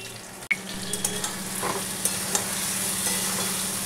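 Ground poppy-seed spice paste sizzles and fries in a pan for a kofta curry while a spoon stirs it, with a sharp clink near the start, then a steady close sizzle broken by light scraping taps.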